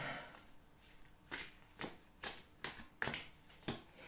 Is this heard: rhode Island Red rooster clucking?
no